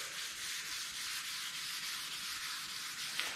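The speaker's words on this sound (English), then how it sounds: "I'll keep sanding until I get all that off" Sandpaper rubbed by hand across the guide-coated metal tailgate of a 1956 NAPCO GMC Model 100 truck, a steady close hiss of strokes running without pause, no voices.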